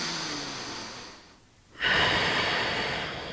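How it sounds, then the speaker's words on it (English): One deep breath drawn and released during a deep squat exercise, close and clear: a long airy inhale fades, a brief pause follows, then a strong exhale rushes out. "One breath here at the top."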